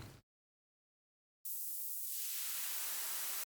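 A short blip of noise, then silence, followed by a loud, steady hiss of white noise that holds until the end.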